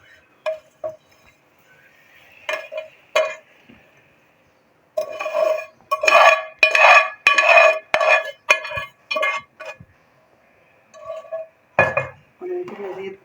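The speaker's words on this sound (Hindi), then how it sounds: "अब हम इसमें सेवइयाँ वगैरह जो है वो सारी शामिल कर देंगे।" Vermicelli is stirred into boiling milk in a metal pot, giving bursts of sharp clinking and scraping of a spoon against the pot, loud and close, with short pauses between rounds of stirring.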